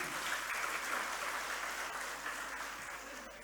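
An audience at a Halal bi Halal gathering of the Muhammadiyah Kendal Islamic hospital applauds the regent, a faint, distant wash of steady clapping that slowly tapers over a few seconds.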